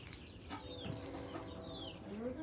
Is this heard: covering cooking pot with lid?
no